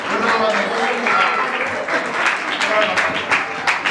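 An audience at a Dasalakshan festival cultural program in a Jain temple hall claps steadily, a dense, close patter of many hands, with a voice talking over it.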